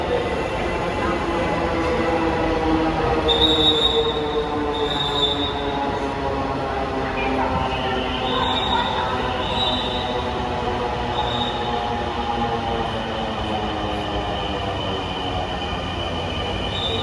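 A Dhaka Metro Rail train arrives at the platform, with a steady loud rumble of wheels and motors and a rising electric whine, long and continuous with faint high tones.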